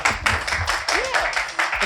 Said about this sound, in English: Clap hands for her.